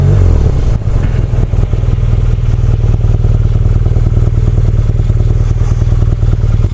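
BMW R nineT Cafe Racer motorcycle being ridden, its engine droning steadily and loudly at a constant pulse with rattling mechanical texture and wind noise.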